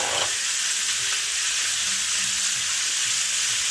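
Vietnamese spring rolls fry in hot oil, giving a loud, dense, unbroken sizzle that holds steady throughout with no talking.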